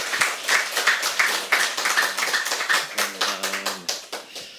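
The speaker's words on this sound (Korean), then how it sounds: "우리 목사님 나오실 때 큰 박수로 환영해 주시기를 바랍니다." Church congregation clapping to welcome the pastor at a Sunday worship service, a steady run of fairly close hand claps with a few voices and a brief tonal murmur underneath.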